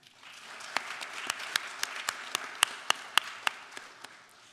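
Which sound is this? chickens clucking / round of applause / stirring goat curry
round of applause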